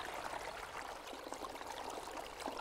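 A countryside river flows and trickles steadily, with a soft, continuous babble and small splashes. Quiet and even throughout, with no voices.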